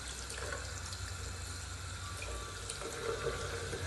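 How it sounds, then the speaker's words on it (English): Water runs steadily from a tap into a sink as hands are wet for washing, a continuous, moderately faint splashing rush with no talk. "So first of all, turn the tap on"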